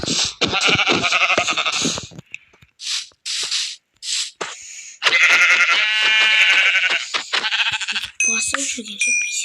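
Several sheep bleats from a Minecraft game, short repeated calls separated by brief gaps, with other game sound effects and tones near the end.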